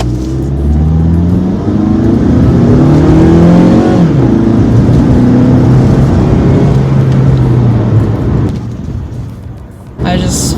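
A 2017 Mazda 3 hatchback engine pulls at full throttle uphill, a loud sustained drone with rising harmonic pitch through the gears, heard from inside the cabin, easing off near the end.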